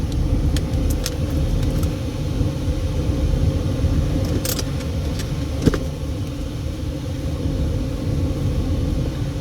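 A car driving over Hoover Dam on a very hot day, with a steady close interior rumble of engine and road noise plus a few light clicks and one sharp tap.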